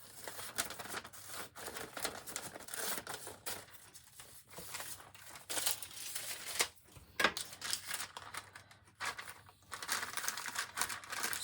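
Scissors cutting a paper border around a craft canvas piece, giving continuous crisp snipping and rustling with irregular bursts and brief pauses, fairly quiet and close with no talking.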